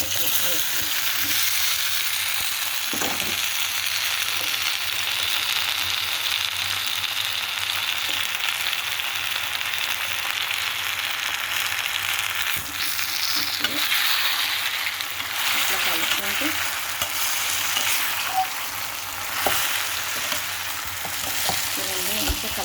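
Raw banana pieces fry in a pan with a steady, close sizzle and crackle that holds for the whole stretch, with occasional stirring scrapes and no talking.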